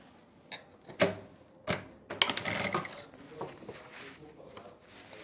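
A sewing machine runs loose basting stitches along a folded kurti, several short bursts of mechanical rattling and tapping separated by pauses, with sharp clicks at the starts and a longer stretch of stitching after the middle.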